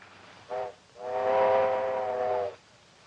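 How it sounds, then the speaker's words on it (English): A steam locomotive whistle on a train arriving from the wrong direction, heard in an old Western film: a short blast, a pause, then a long sustained harmonic wail fading out cleanly, with no talking. "Yep, number 7, right on the dot."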